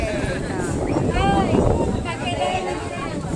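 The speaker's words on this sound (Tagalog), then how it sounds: "Ang lakas ng hangin." Strong wind buffets the microphone in a constant roar, with faint voices and shouting mixed in.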